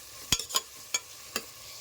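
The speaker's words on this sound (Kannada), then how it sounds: "ಈರುಳ್ಳಿ, ಹಸಿಮೆಣಸು ಎಲ್ಲ ಚೆನ್ನಾಗಿ ಫ್ರೈ ಆಗಬೇಕು." Onions and green chillies fry in a pressure cooker, with a soft low sizzle under four sharp separate scraping stirs of a spoon against the metal.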